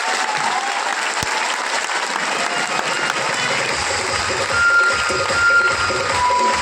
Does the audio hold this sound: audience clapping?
yes